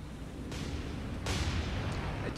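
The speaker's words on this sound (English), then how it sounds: "I just love the explosions from the gun." Two heavy booming blasts from a 5-inch naval gun in the video game War on the Sea, about a second apart, burst out of a steady low rumble, then the rumble carries on. No talking.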